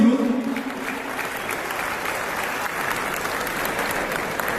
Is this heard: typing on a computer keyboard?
no